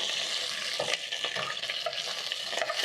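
Beef ossobuco sears in a hot pan, a loud continuous sizzle with a few soft scrapes and bumps as the pieces are flipped, close up and free of talk.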